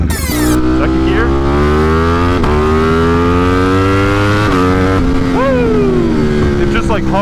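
A 200+ horsepower motorcycle revs hard and climbs through second and third gear during a wheelie on a cold winter ride, with loud, rising engine harmonics and quick blipped shifts. It sounds close and steady the whole way, with brief gaps at each gear change.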